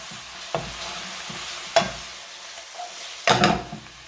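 A spoon mixes kimchi stew ingredients with chilies, spring onion and sugar in a pot, giving a few scattered scrapes and clacks over a soft low sizzle, close by and without talk.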